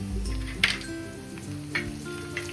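Crushed garlic and green chili thecha sizzles and fries in a hot pan with steady crackling, broken by a few louder spatters and stirring scrapes close by.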